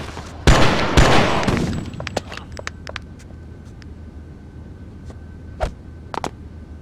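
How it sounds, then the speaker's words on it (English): Rockets firing in the video game Oni: two heavy blasts open with a long roaring whoosh, then a string of sharp cracks and scattered impacts fades into a low rumble, ending in a few louder bangs. "Oh, eat rockets!"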